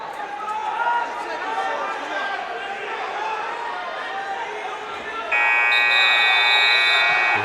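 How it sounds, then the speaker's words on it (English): A buzzer goes off at a high school regional wrestling finals in an arena, sounding as a loud, steady electronic tone near the end, cutting through crowd chatter and nearby talking. "Hear that buzzer, that's right in front of us."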